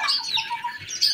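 Caged hens and chicks give a short burst of harsh, overlapping squawks and chirps, loud and close, with no speech.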